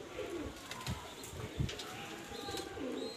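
Pigeons coo softly nearby amid faint outdoor background noise, with a few low throaty calls and a light chirp.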